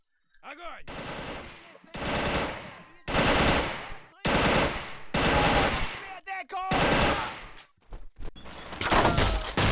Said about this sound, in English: a deployable heavy machine gun, which I'm going to use to try and keep the bunkers pinned down